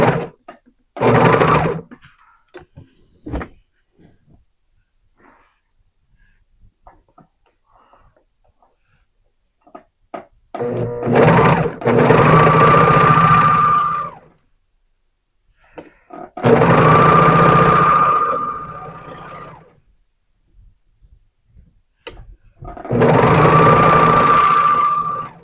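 Sewing machine stitching the side seam of a pair of leggings, running in three sustained bursts of several seconds each with short bits of handling noise and pauses between, fairly loud and close.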